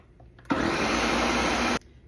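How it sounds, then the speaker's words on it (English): A kitchen blender whirring through poblano chiles, one loud, steady burst of about a second and a quarter that starts and stops abruptly against near silence. "Now we blend."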